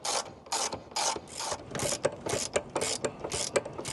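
Rapid bursts of a hand ratchet tightening a bolt with a spacer while mounting a saddlebag guard part on a 2025 Harley-Davidson Low Rider ST, close and distinct, repeating in quick strokes with short pauses between them.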